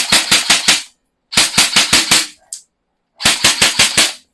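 An SRC airsoft gun fires single shots in three quick bursts of about four to six sharp, loud, close cracks each, separated by short silences, with a faint click between the bursts.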